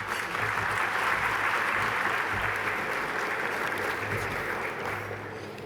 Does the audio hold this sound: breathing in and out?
no